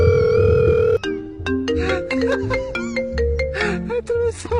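A telephone ringtone plays as a steady electronic tone, then turns into a bouncing melodic tune that repeats through the clip, fairly loud and close with some background noise beneath it.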